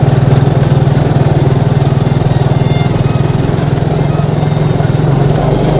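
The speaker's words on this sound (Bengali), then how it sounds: "ভাগ্নে বাইক চালাচ্ছে আর আমি পেছনে বসে আছি।" A motorcycle engine carrying two riders up a steep brick hill road in Khagrachari drones close and loud, its pulse steady and unbroken throughout.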